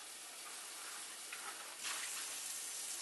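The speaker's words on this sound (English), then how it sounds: "just rinse it out again" Running water rinses the filter of a pet water fountain, a steady splashing hiss that swells louder near the end with no voices.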